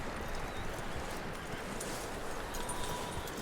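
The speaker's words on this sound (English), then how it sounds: "That looks like a decent horse." Horse hooves clip-clop steadily in the video game Red Dead Redemption 2, a continuous low rumble of footfalls at a moderate distance with no talking over it.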